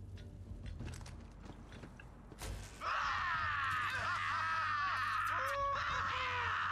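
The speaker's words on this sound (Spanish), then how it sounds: "¿Oyes gritos o estoy teniendo otro de mis episodios?" Screams erupt midway through the Borderlands 3 game scene and continue loudly and steadily after a duller, quieter opening with scattered background noise.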